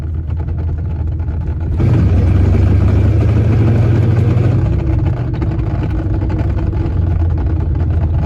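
Race car engine with a failing transmission, a loud close drone that surges at about two seconds into a strained, droning whine before easing back to a rough idle-like rumble.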